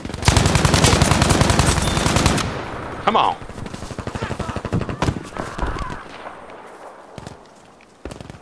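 Light machine gun fire in Battlefield 5, a loud sustained burst of rapid automatic shots for over two seconds, followed by scattered shorter bursts and single gunshots amid game noise, with occasional voices.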